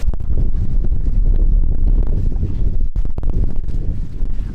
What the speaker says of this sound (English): I know it's super windy right now, so excuse the microphone